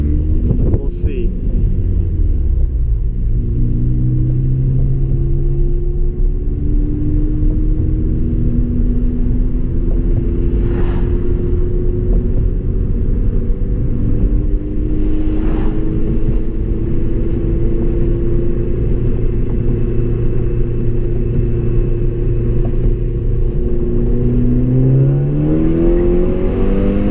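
A Ford Focus ST fitted with a Cobb rear motor mount accelerates hard, its engine rumble rising and falling through gear changes in a loud, continuous drone with wind buffeting on the microphone.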